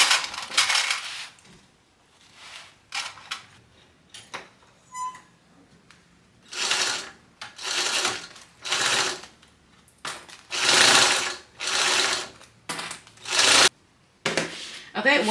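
Sewing machine stitching a seam at 3/8 inch allowance on a garment, close bursts of rapid mechanical whirring repeating in short runs separated by pauses.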